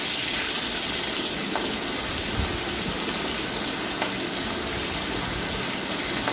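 Potato pieces fry in hot oil while being stirred, a dense, steady crackling sizzle heard close up with a few faint knocks of the utensil, and no talking.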